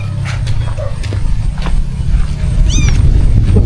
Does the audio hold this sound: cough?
no